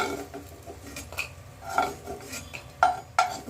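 Fried lentil bori are lifted out of a wok with a metal utensil, making a few sharp scraping clinks against the pan over a faint background, with no talk.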